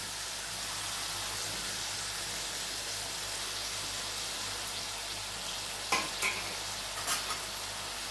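Brinjal chutney ingredients with tomato, coriander and green chillies fry in a pan with a steady soft sizzle, while a spoon scrapes and stirs in a few light, irregular knocks, no talking.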